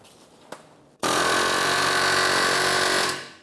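A pneumatic air hammer with a chisel works loose a rear wheel bearing on a 2012-2016 Subaru Impreza. A single sharp tap comes first, then a loud, steady, close-up rattling burst lasts about two seconds before it stops abruptly.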